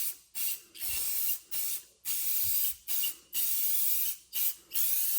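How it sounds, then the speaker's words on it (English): An aerosol can of tire coating sprays onto a car tire in a series of short, hissing bursts, about nine in quick succession, each broken by a brief pause, close up. "You spray this on 6 to 8 inches in sweeping motion."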